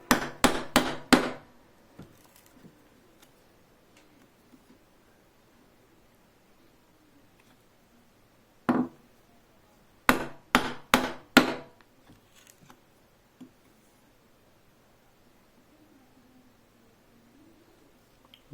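Chisel chopping mortises for a wooden bow saw: a fast cluster of sharp mallet-on-chisel strikes, then one lone hit, then another quick burst of four or five blows. Close and loud, with near silence between the bursts.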